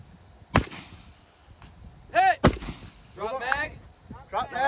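Sharp gunshots crack at a shooting competition stage, two loud close reports followed by metallic pings ringing off steel targets, with voices talking and distant shots in between.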